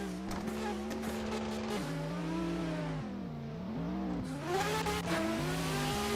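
Toyota Supra and Corvette C5 launching side by side at an autocross street-spec competition, engines revving with steady rising and falling harmonics, loud and close, a brief tire squeal near the end.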